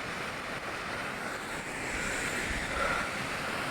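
Flowing water near a waterfall makes a steady, broad rushing roar with wind in the microphone, constant throughout and swelling slightly partway through, with no voices.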